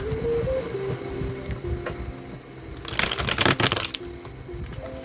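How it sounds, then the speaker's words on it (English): A deck of cards is shuffled: a quick, crisp flurry of riffling snaps in the middle, with quieter handling and shuffling sounds before and after. "This is so hard to shuffle."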